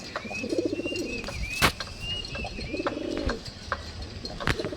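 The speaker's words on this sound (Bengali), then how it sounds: "অনেকে কিন্তু ভালো ডাকা কবুতরও পছন্দ করে যে সারাদিন ডাকবে" Fancy pet pigeons at a pigeon fair coo in soft repeated bursts, two clear throaty cooing phrases close by, with bird chirps, a brief sharp knock and a faint high whistle in the background.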